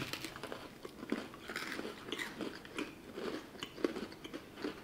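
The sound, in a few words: biting and chewing an Oreo with sour cream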